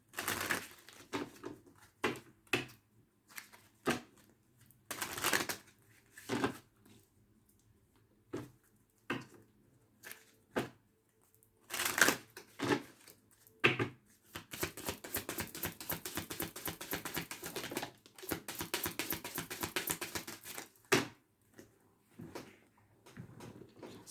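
Tarot cards are handled and shuffled nearby: scattered soft taps and flicks, then a dense, rapid riffling burst lasting several seconds before a few final slaps of the deck.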